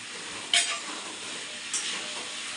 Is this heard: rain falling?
no